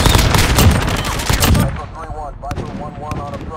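Rapid automatic gunfire in the Modern Warfare Ground War shooter, loud and dense for about a second and a half, then thinning to scattered distant shots and clatter.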